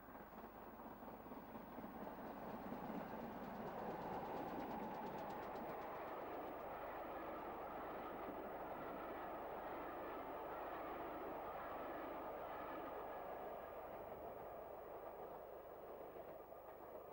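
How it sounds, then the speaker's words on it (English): GWR Manor-class steam locomotive Hinton Manor working a single-line section just out of Swindon, heard as a steady, full rumble with a faint rhythmic beat that holds at an even loudness throughout, with no voices. "The third locomotive to feature was Hinton Manor, seen shortly after leaving Swindon on the single line section."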